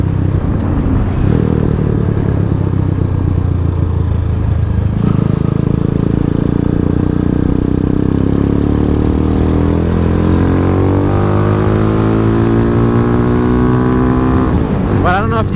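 A DF250 motorcycle with a Venom X22R climbs through third gear, its engine note rising steadily in pitch for about fifteen seconds, loud and close with heavy wind buffeting and a brief voice early on.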